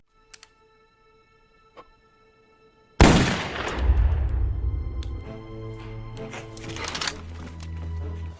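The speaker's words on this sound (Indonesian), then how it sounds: "Komandan Jai lebih memilih menembak kepalanya sendiri" A single sharp gunshot in a war film scene where a commander shoots himself, bursting suddenly after quiet faint ticks and followed by a long decaying rumble and musical score.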